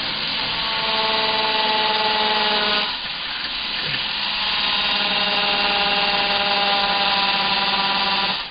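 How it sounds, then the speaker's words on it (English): A cordless battery drill bores a pilot hole with a quarter-inch bit, a steady motor whine that runs loud and alone, dips briefly at about three seconds, then resumes and keeps going. "So I'll drill my pilot hole"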